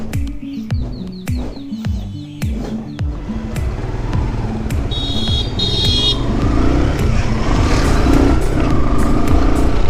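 A motor vehicle engine builds from a few revving bursts into a steady rising drone as a motorcycle sets off on a ride from home, with birds chirping nearby at the start.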